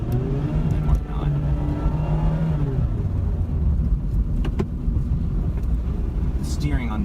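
A 2017 Mazda Miata RF engine in sport mode, held in gear and paddle shifted, hums and revs steadily under cabin road noise, with shifts changing its pitch along the way.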